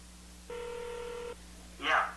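A smartwatch with a built-in dialer plays a single steady electronic dialing tone lasting under a second while a call is placed, followed by a short, brighter burst of sound.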